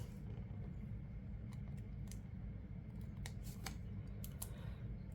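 Scissors snip through a paper envelope in several short, crisp cuts over a low steady background rumble, close and quiet, with no speech.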